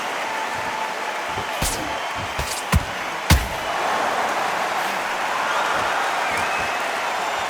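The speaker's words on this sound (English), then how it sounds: "Really good buzz in the air tonight. This crowd waiting for something special." Crowd buzz fills a boxing arena, a steady loud murmur of spectators throughout, with a few sharp thuds and claps rising above it.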